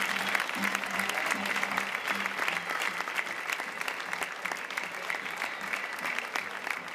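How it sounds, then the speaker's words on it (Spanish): An audience at a village theatre performance during a cultural week applauds the actors after the play, steady sustained clapping from a crowd throughout, fairly even in loudness. "Aplauso para todos los actores de la obra."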